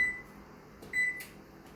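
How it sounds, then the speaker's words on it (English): Two short electronic beeps from a home oven's control panel as it is set to preheat to 350 degrees, close and clear with a quiet pause between them. "first thing I'm going to be doing is preheating my oven to 350 degrees"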